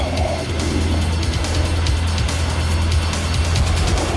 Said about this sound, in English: Okay, we're just speeding up the engines.